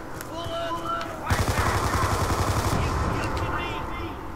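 Rapid automatic gunfire aimed at zombies in Call of Duty's Tranzit mode, a loud steady burst of evenly spaced shots lasting about a second and a half, with a voice talking before and through it.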